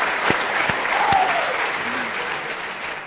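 A round of applause from an audience, a short burst of dense clapping at moderate level with a few sharper claps standing out, no talking over it.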